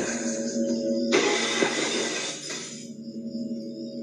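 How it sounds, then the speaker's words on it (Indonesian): Staged glass-breaking sound effect in a radio horror drama, a bright shattering crash that bursts in over a low sustained hum and rings out for about two seconds before fading. "terdengar suara kaca pecah"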